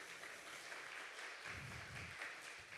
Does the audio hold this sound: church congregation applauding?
yes